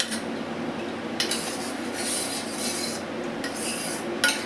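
A spoon stirs water into yogurt for raita in a bowl, giving a continuous scraping, rubbing sound with occasional sharper clinks against the dish, close and steady throughout.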